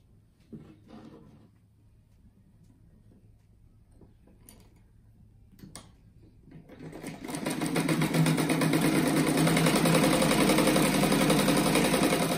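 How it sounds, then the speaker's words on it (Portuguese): Sewing machine stitching two pieces of fabric together for a kite-themed rug, starting after a few seconds of quiet handling clicks and then running as a loud, steady, continuous motor whir until the end. "Agora eu vou costurar esses dois juntos"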